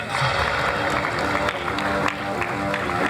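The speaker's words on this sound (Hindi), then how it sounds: "Round of applause for Punjab" A crowd claps steadily at a taekwondo championship ceremony in Lahore, loud continuous applause from many hands filling the hall, while an announcer speaks over it.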